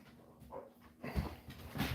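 Dogs fill a busy farmhouse room, with a brief soft whimper and faint shuffling sounds close by, low in level, ending in a slightly louder rustle.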